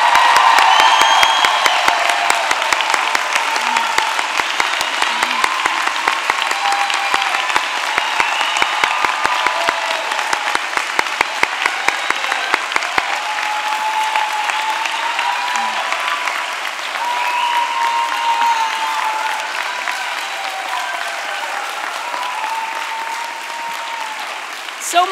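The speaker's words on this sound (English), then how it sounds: "Could I get one more round of applause for the class of 2019?" Prolonged applause and cheering for the class of 2019 at a college commencement ceremony, a large crowd clapping steadily with whoops and shouts rising over it, gradually easing toward the end.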